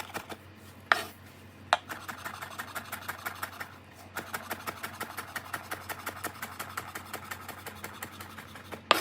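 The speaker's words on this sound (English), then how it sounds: "So we're gonna quickly chop everything up." Knife chopping onions and cilantro on a board, rapid steady taps in quick even runs with a brief pause, close and clear over a low background hum.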